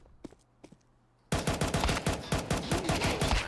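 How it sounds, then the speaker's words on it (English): Counter-Strike 2 gunfire: a few isolated taps, then a sudden loud burst of rapid automatic shots that carries on to the end. "Sending out some bullets"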